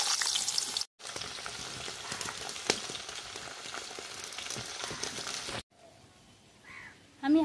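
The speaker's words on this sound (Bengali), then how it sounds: "আমি ছাকা তেলে আলুগুলো সব ভেজে নেব" Potatoes deep frying in hot oil for aloo dum, a loud, continuous hiss and bubbling crackle close by, cut off by two brief silences and followed by a quieter tail with a faint voice.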